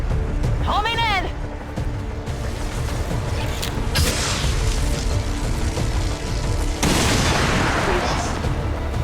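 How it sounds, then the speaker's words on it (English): Blaster bomb exploding in the XCOM 2 video game, a loud boom with a whooshing burst landing amid dense game effects and music, heard under a man's speech. "we'll use the blaster bomb first"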